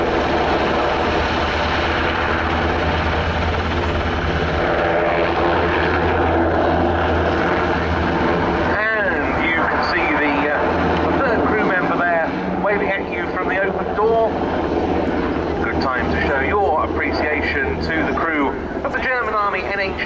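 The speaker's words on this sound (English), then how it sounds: "NH90 tactical transport helicopter." A German Army NH90 tactical transport helicopter at the RIAT 2022 air show roars loudly and steadily nearby, with a low throbbing rotor hum and whining engine tones that shift as it moves.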